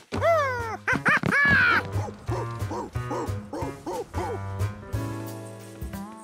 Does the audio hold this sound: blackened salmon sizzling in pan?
no